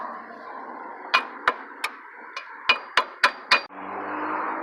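A hammer taps on the front brake pads of a 2006 PT Cruiser about eight times: sharp metallic knocks at an uneven pace, close by, over a low steady hum.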